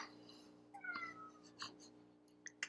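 A pet cat meows faintly a few times indoors, short soft calls scattered over a steady electrical hum, with no talking.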